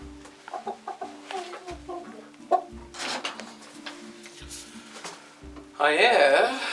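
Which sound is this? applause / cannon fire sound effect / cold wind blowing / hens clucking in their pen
hens clucking in their pen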